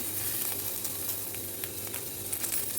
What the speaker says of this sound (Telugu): బఠానీ కొంచెం ఫ్రై అయిన తర్వాత అల్లం వెల్లుల్లి పేస్ట్ వేయాలి